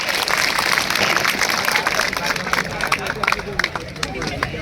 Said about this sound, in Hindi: एक बार विधायक महोदय के सम्मान में जोरदार तालियां हो जाए